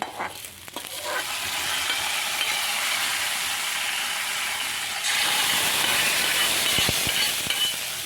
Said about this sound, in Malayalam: നമ്മുടെ ഉള്ളിയൊക്കെ നന്നായി മൂത്തിട്ടുണ്ട് നമുക്കിത് ഒഴിച്ചു കൊടുക്കാം കറിയിലേക്ക്